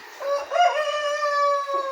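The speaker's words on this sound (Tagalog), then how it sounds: "Mga manok." A rooster's drawn-out crow rings out clearly for about two seconds, a single sustained call without other voices.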